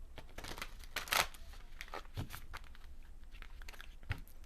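A deck of tarot-style cards is shuffled close by, producing quick riffling flutters and soft slaps in irregular bursts, with one louder flurry near the start and no speech.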